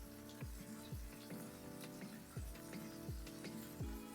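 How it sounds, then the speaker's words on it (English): Peppers sautéing in a pan, giving a steady soft sizzle with occasional light clinks and scrapes. "Just gonna saute these veggies."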